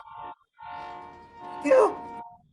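A train whistle sounds in several wavering blasts, rising to a louder, harsher cry before fading out.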